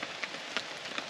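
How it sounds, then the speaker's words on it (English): Rain falls steadily through woodland, a soft continuous patter with scattered distinct drops hitting leaves and surfaces close by, quiet and with no talking. "The rain just hasn't let up at all"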